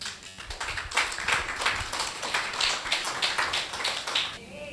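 Church congregation applauding Jesus during a Spanish-language sermon, a steady run of hand claps at moderate loudness that ends abruptly near the close.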